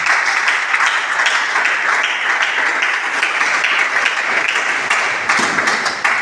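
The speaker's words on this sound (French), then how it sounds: "avec des tonnerres d'applaudissements" An audience at a conference on the inclusion of albino women breaks into loud, sustained applause, dense even clapping from many hands filling the room without a break.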